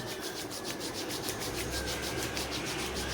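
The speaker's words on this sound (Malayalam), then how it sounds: "എവിടെയാണ് കൂടുതൽ കറുപ്പ് ആ ഭാഗത്ത് കൂടുതലായിട്ട് സ്ക്രബ് ചെയ്ത് കൊടുക്കാം" Body scrub rubbed over darkened skin, a steady close grainy rubbing with a soft hiss that runs continuously without pause.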